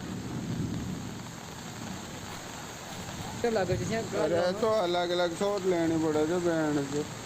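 Heavy monsoon rain pours down in a steady, loud, broadband hiss, and a voice starts talking over the downpour partway through.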